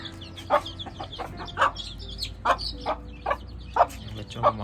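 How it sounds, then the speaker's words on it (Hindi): Hens clucking and squawking in sharp, repeated calls at roughly one-second intervals as they attack young chicks, close by over a low background hum. "बच्चों को मारना शुरू हो गई हैं दूसरी मुर्गियाँ।"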